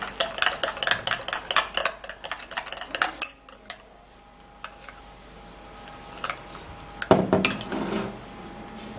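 Skin-care ingredients with baking soda and Vaseline are mixed in a bowl, a utensil clinking and scraping rapidly against the dish, then going quieter with a faint steady hum before a last burst of clinks.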